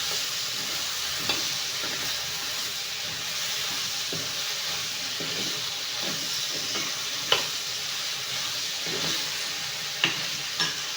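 Ground coconut paste goes into a cooking pot and bubbles with a soft, steady sizzle and hiss, broken by occasional light clinks and taps of a utensil.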